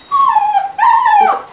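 A beagle whimpers close and loud: two drawn-out, high, falling whines, one after the other, with no voices over them.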